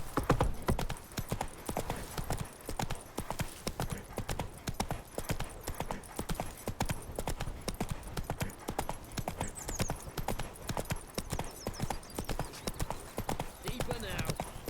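Roach the horse trots in The Witcher 3, its hooves clip-clopping in a steady, quick rhythm throughout, with voices heard faintly in the background.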